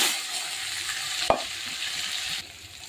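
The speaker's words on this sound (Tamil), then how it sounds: "வெங்காயம் நல்லா வதக்கிக்கலாம்" Onions with curry leaves sautéing in oil in a pan for an Indian prawn curry, a close, even hiss of frying with one sharp utensil clack midway, then the sizzle fading a little.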